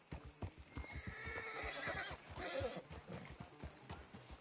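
A horse whinnies in a long, shrill neigh over steady clip-clopping hooves, fairly close and clear, in the video game Red Dead Redemption 2.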